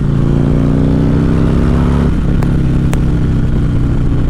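Harley-Davidson Street Glide motorcycle accelerating hard, a loud, close, throbbing V-twin engine note that climbs, then shifts around the midpoint and keeps pulling steadily.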